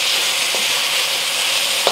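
Beef stir-frying in a hot pan for wat tan hor fun gives a steady, loud, close sizzle that continues without a break, with a couple of faint stirring clicks and no talking.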